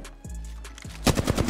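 Rapid bursts of automatic gunfire from the video game Apex Legends: a couple of isolated shots, then a dense close run of loud cracks packed near the end.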